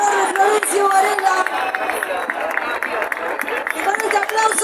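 A large crowd at the opening ceremony of the 2024 Juegos Bonaerenses applauds and cheers steadily, with scattered claps and voices blending into a loud, continuous roar.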